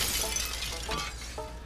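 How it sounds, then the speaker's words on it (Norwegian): A goat headbutts glass in the video game Goat Simulator 3, giving a few quick crashing shatters with tinkling shards spaced across the moment, no talk over it. "Headbutt glass."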